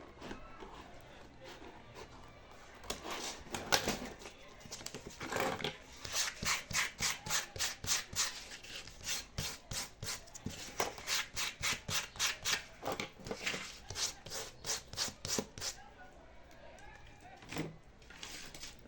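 Trimming a DIY heel at home: a fast series of rhythmic rasping strokes, steady and close, with a few scattered louder scrapes toward the end.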